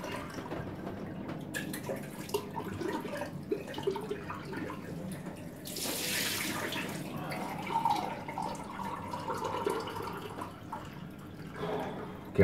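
A bathroom tap runs as a man rinses his face after a shave, a soft, uneven trickle and splash with a louder burst of flowing water midway, quiet and fairly close, with no talk.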